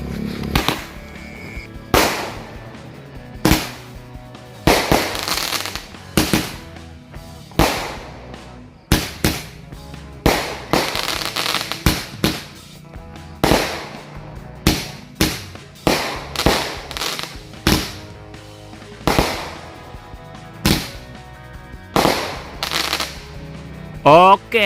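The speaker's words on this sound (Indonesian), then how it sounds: "Ini kita nyalain dulu mercon Roman candle yang 8 shoot sekaligus 2 buah guys." Two Roman candle firecrackers, eight shots each, set off together at an Indonesian Independence Day celebration, fire a long run of sharp, loud bangs and crackling bursts in an irregular rhythm, each burst followed by a brief hiss.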